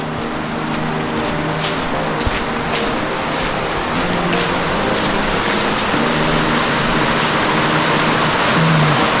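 Forney Creek flows in the Great Smoky Mountains, a constant broadband rush of moving water heard up close and loud throughout, with faint scattered ticks over the steady wash.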